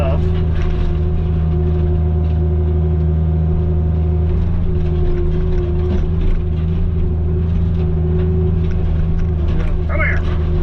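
Heavy machine crunching scrap sheet metal from a demolished old tool shed into a ball for a truck, a loud steady engine drone with grinding metal beneath, continuous and close.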